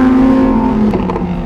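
A car engine revs hard past 5,000 RPM with a loud, sustained high-pitched howl. Near the end the tone shifts as rattly bursts break in.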